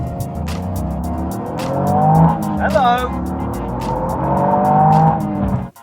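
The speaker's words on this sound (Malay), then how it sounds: "Cuba awak dengar enjin 3 silinder turbo GR Yaris." A Toyota GR Yaris turbocharged three-cylinder engine revs up and falls back in rising and falling sweeps, loud and close, with a brief spoken word partway through.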